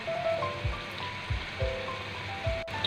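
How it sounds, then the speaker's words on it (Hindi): Water splashes steadily into a pot of Kashmiri chicken matar curry, a continuous close pouring rush with a few dull knocks and a sharp click near the end. "अब ये देखिए, हम पानी डालने लगे हैं।"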